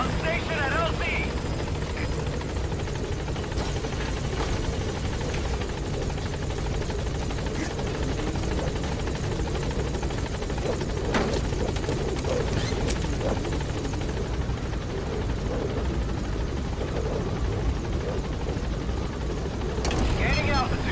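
Helicopter in Metal Gear Solid V hovering at a landing zone, its loud, steady rotor and engine roar filling the whole scene while radio voices talk over it.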